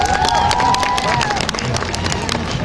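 Spectators at an open-air Buryat national wrestling final on Red Square cheer, clap and shout in a dense, steady crowd roar, with whistle-like tones early on and voices mixed into the noise.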